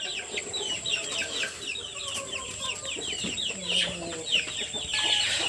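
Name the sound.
chickens clucking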